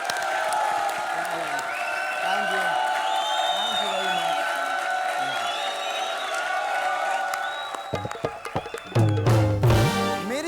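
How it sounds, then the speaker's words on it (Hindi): A comedy show audience claps and cheers throughout, a dense steady wash of applause with whoops; near the end someone speaks briefly as it fades. "जोरदार तालियां।"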